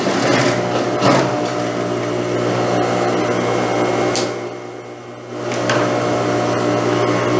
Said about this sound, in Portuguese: Agora eu vou passar uma pequena costura aqui para fixar esse babado aqui na abertura da frente.